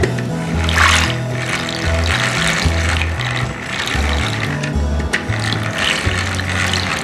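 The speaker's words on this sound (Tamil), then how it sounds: "நான் இன்றைக்கி இந்த மாதிரி ஒரு பீட்ரு வச்சுருக்கேன், அதை வச்சு அடிக்க போகிறேன்." A hand beater whips cream for a no-bake eggless bread cake frosting, a loud continuous mechanical whirring with a steady rattle heard close up, uninterrupted and without talk.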